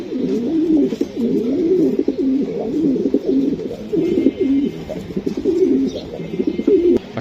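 Pigeons coo repeatedly and continuously at a racing pigeon market, a dense overlapping rhythm of low throaty calls with crowd noise in the background.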